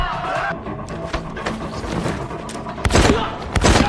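Gunfire from a shootout in a film scene set in a nightclub: a dense, busy action mix with scattered sharp bangs and thuds, the loudest bursts near the end, with no clear speech.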